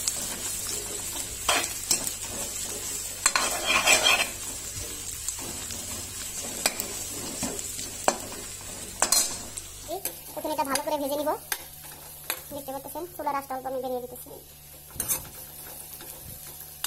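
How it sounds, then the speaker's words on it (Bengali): Chopped onion and green chilies sizzling in hot oil while being stirred, with steady frying hiss and scraping stir strokes in the pan, close and clear with no talking. "তো এখন ভালো করে লেড়ে ছেড়ে নিব।"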